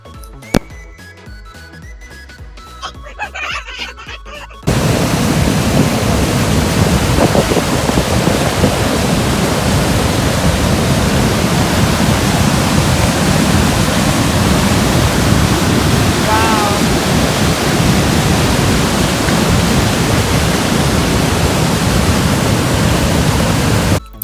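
Niagara Falls roaring: after a quieter opening, a loud, dense, unbroken rush of falling water fills everything and keeps going without pause.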